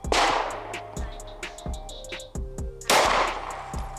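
Gunshots fired at steel target plates on a range, a loud sharp report at the start and another near the end, with fainter shots and metallic ringing in between and no talk.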